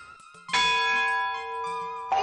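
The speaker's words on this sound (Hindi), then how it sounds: "काय की घंटी थी, डिनर की घंटी" A dinner bell rings out loudly with a long, shimmering metallic resonance that slowly fades, then is struck again at the end.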